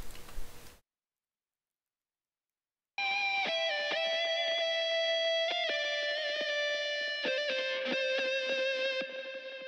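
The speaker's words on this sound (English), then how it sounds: "It's called Swiggles Lead" A guitar is played through a digital amp simulator's Swiggles Lead Clean preset in Ableton for a jazz rock song, sounding after a silent gap as sustained clean lead notes with sharp pick attacks.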